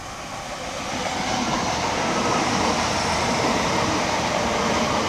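A Class 387 electric passenger train passes through a station, a steady broadband rush of wheels and motors that swells over the first second and then holds loud and constant.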